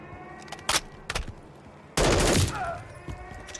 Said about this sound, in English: they're shooting me from a top roof!